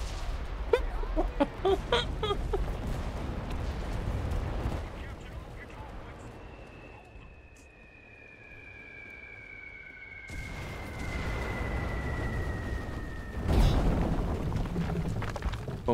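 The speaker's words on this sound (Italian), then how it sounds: "Bombardamento, ok." Artillery bombardment in the World War II shooter Enlisted during a Normandy invasion, with heavy rumbling booms and gunfire at the start and again later, a whistling tone through the middle, and someone speaking over parts of it.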